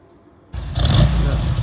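After a moment of quiet, a classic car engine starts and settles into a loud, throaty idle right up close.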